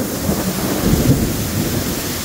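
A thunder clap cracks directly overhead in a summer flash storm in the South, a loud rolling rumble over the steady hiss of torrential rain.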